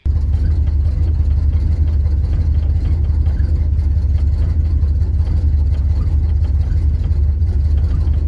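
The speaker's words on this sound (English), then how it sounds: "Here, just listen to my car idle." An old car's engine idles steadily and loud, a constant low rumble with whirring and faint rattles throughout, no talk over it.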